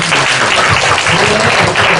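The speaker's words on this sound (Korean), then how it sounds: "박수 한번 해주세요" A church congregation applauds steadily during a Sunday service, a thick, even wash of clapping that continues loudly without a break.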